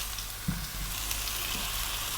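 Halved bone-in, skinless chicken legs sizzle steadily in a hot pan, a constant crackling hiss with a few soft pops, fairly quiet and close.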